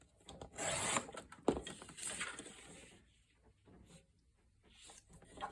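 Cardstock being cut in half with a paper trimmer for photo mats, soft scraping, rubbing strokes with a sharper snap midway, close and quiet, then fainter brief rustles.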